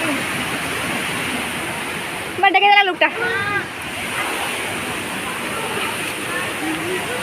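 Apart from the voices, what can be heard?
waterfall near a temple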